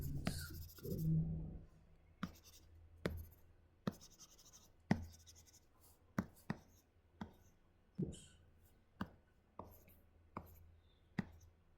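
Eraser swept across a lecture-hall board: a dozen short, scratchy strokes in a steady rhythm, roughly one per second, faint and close, after a brief louder rustle at the start.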